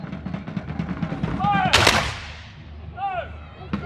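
Infantry fire a volley of muskets at a reenactment show, a loud sharp crack with a rolling tail, heard over crowd murmur and a voice on a loudspeaker, with whistling tones nearby.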